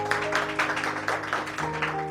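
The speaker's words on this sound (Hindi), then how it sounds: "ताली बजाकर खुदा का धन्यवाद करेंगे" A church congregation clapping together in thanks to God during a sermon, rapid rhythmic claps under a sustained musical drone, moderately loud.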